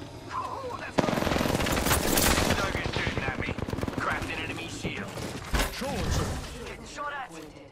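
Rapid automatic gunfire bursts in the shooter game Apex Legends, dense and loud, with sharp cracks and impacts overlapping, while a voice talks over the action.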